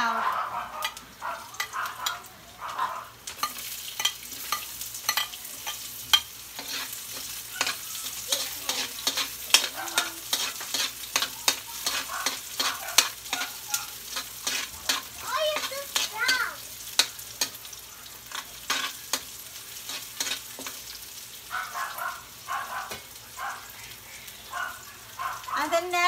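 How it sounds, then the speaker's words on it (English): Garlic and onion sautéing in a pan for pork humba, with a soft crackling sizzle and frequent clinks and scrapes of stirring running throughout. "Let's saute the garlic and the onion."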